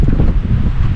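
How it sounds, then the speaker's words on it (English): Strong gusting wind buffets the microphone at a lakeside campsite in a steady, roaring rush with no voices, loud and close throughout. "Checking out the gusts of wind that are happening here."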